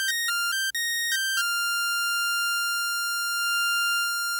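A bright synth tone from the Harmor synthesizer in FL Studio, a few quick stepped notes that settle into one sustained buzzy tone with a harsh, clean overtone-rich edge, alone and steady.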